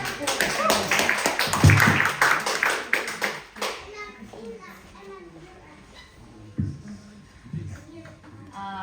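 Congregation clapping hands together at a church service, a brisk burst of claps mixed with children's voices and chatter that fades after a few seconds into quieter murmuring and scattered taps.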